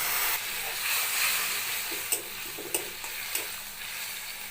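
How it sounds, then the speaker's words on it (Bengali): Ginger-garlic paste sizzles and fries with a splash of water in a pan while cooking a Bengali paneer and vegetable dish, a steady hiss broken by a few sharp clicks of a stirring spoon. "এবার দিয়ে দিচ্ছি আদা রসুনের বাটাটা অল্প একটু জল দিয়ে কষিয়ে নিচ্ছি"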